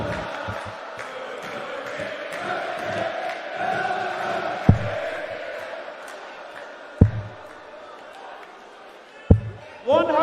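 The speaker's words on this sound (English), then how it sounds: "it's definitely woken this crowd up here in Trier" Darts crowd in an arena in Trier, Germany, at a European Darts event, murmuring and cheering under a commentator's talk, with several sharp thuds standing out near the end.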